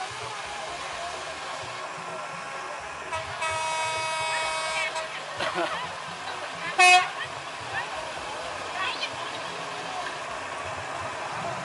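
A sugarcane lorry train horn toots at the PG Semboro sugar mill in a short sustained blast, then a brief louder honk, over an outdoor crowd of chatter and engine rumble.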